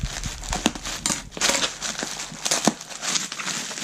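Box of a 1:18 BBR Ferrari F12 TDF model being cut open: close, scratchy crinkling of cardboard and plastic in rapid irregular scrapes and snips, fairly quiet.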